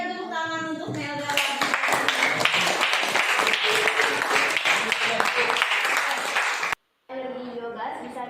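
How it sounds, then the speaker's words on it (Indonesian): Audience applause in a school teacher-training session, a few seconds of clapping that starts and stops abruptly, with a voice talking before and after it. "berikan tepuk tangan untuk Melda"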